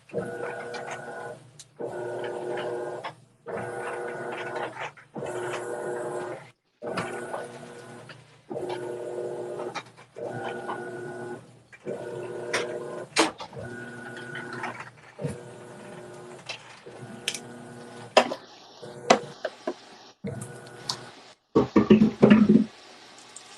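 Washing machine running, a faint rhythmic mechanical whir in repeated bursts with short pauses between, with splashing and clunks growing busier toward the end.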